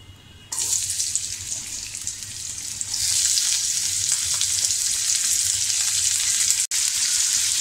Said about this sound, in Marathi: हा कांदा आपल्याला आता मध्यम आचेवरच तळायचा आहे